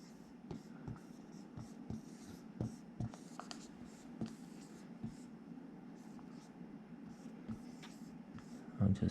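Chalk or marker writing on a board during a university linked-list lecture: a series of short taps and scratchy strokes in irregular rhythm, faint and a little distant in a quiet room, with soft background murmurs.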